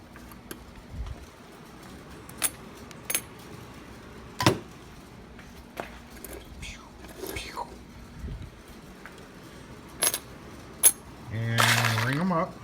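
Sets of freshly cut metal keys clink and jangle in scattered bursts as they are handled and moved at a key-cutting counter, with a brief louder rattle near the end and quiet speech in the background.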